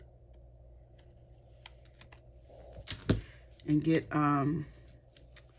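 Cardstock being trimmed for a handmade card: a quiet cluster of short cutting and paper-handling clicks near the middle, with a voice talking over the close sounds.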